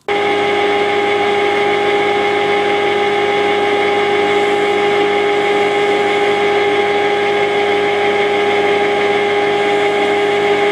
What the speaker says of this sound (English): I'm going to slow down the lathe to 550 RPM.